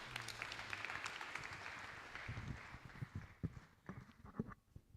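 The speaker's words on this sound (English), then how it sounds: "Clap for her, please." Scattered audience clapping at a graduation ceremony, a loose patter of many hands that thins out and fades toward the end, with sharper individual claps near the close.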